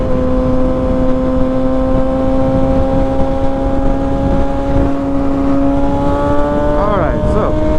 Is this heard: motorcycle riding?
yes